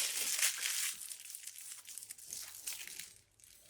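Tissue paper from a subscription makeup box crinkles and rustles continuously at close range while being unwrapped, with brief crunchy peaks and no talking.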